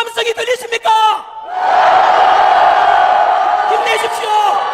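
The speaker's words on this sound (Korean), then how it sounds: "우리의 함성이 들리십니까?" Crowd of protesters at a rally opposing a presidential impeachment roars and shouts together, a loud sustained mass cheer that swells after a man's brief spoken lines.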